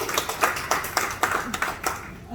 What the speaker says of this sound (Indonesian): Berikan tepuk tangan sekali lagi.